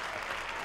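A short burst of steady applause from a small audience, dense and even throughout.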